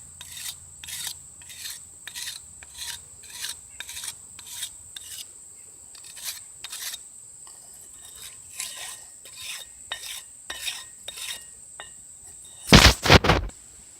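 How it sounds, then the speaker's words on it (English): A sharpening stone rasps in steady, rhythmic back-and-forth strokes along the edges of a handmade copper blade, close and fairly quiet, ending in a louder scraping burst. "that's where I'm going to bust out my stone here, and I'm just going to start sharpening my edges."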